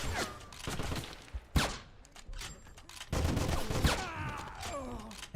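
Enemy gunfire in the 2009 video game Wolfenstein: several sharp bursts and single shots, the loudest ones close, over a layer of combat noise, with a voice heard among them.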